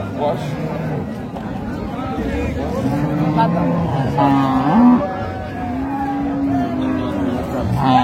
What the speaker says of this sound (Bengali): গাভী বাছুর আমরা দেখছিলাম।